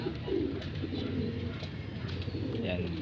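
Low, soft cooing from pigeons over a steady background hum, with a few overlapping calls at close range.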